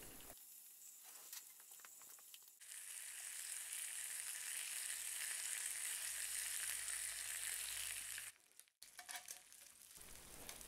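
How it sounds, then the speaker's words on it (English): Loud, steady sizzling of bacon frying in a hot pan on a scrap-built rocket stove, crackling continuously for several seconds before cutting off, with some clatter before and after. "we can hear that it is sizzling"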